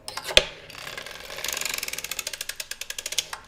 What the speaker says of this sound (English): cranking until you hear that last click